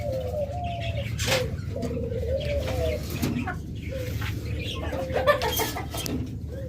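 Olive Fischer's lovebirds in a pet shop give repeated short chirping calls over steady low background noise, with occasional sharper bursts and other birds faintly around.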